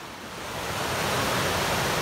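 Steady broadband rush of the Housatonic River flowing, heard alone without voices, swelling slightly louder after the first half second and then holding an even, continuous wash.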